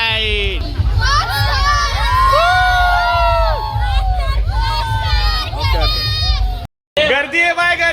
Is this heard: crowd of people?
yes